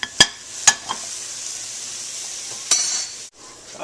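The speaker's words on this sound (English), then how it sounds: "Alright, garlic cooking up really well." Garlic frying in a pan gives off a steady bright sizzle, broken by a few sharp clinks of a utensil against the pan near the start and again later before the sizzle briefly drops away.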